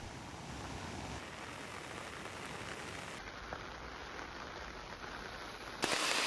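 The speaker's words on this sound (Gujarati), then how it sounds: "સમગ્ર ડાંગ જિલ્લામાં હાલે વરસાદ વરસી રહ્યો છે" Steady monsoon rain pouring down on surfaces in Dang district, Gujarat, a continuous hiss that holds evenly for several seconds with no voices.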